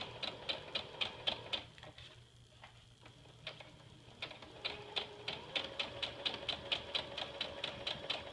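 A sewing machine stitches the body seam of a stuff sack in quick, steady ticking bursts, with a brief pause partway through before the rapid clatter resumes close up.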